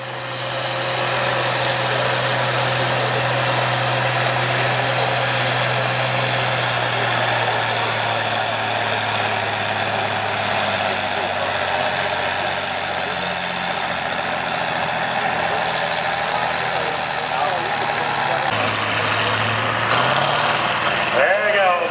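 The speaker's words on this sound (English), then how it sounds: "big 903 Cummins in the 60-30 chassis" A big 903 Cummins diesel engine in a 60-30 tractor chassis runs in the 6 Plow Open class at a tractor pull show. It rumbles loud and continuous, with a deep steady drone that shifts pitch near the end.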